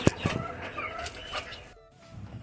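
Village chickens cluck and squawk in a cage, with a few sharp calls at the start followed by scattered softer clucks nearby, ending in a brief lull.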